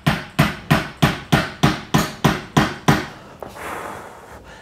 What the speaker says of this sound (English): Hammer, hammer, hammer this down.